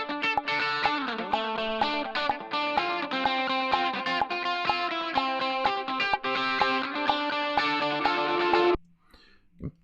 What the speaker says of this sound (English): then you'll hear just the guitar and the metronome